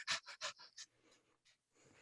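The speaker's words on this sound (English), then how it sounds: "that's his breathing on there" Heavy, rhythmic breaths from a man demoing a song, a run of sharp close inhales and exhales followed by softer, fainter breathing.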